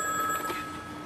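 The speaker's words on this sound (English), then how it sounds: "how come she didn't hear all this phone ringing?" A telephone bell rings in a short, steady burst, fairly loud and close, with no voices over it.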